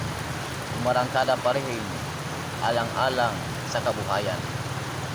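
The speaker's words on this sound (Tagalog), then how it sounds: "Matindi talaga guys yung ang ulan." Heavy rain pours down steadily around a tricycle, a dense continuous hiss beneath someone speaking intermittently, with a low rumble underneath.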